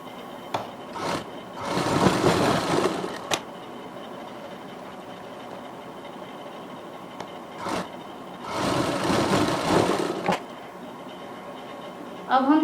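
A sewing machine runs two separate bursts of a couple of seconds each as it stitches the side seams of a Barbie doll frock, a close whirring rattle with quiet gaps and faint handling clicks between.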